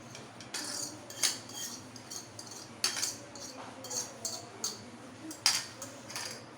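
Chopped carrot, capsicum and green onion dropped into a bowl, heard as a series of soft clinks and light taps of utensil against dish, irregularly spaced, quiet and close with no voice.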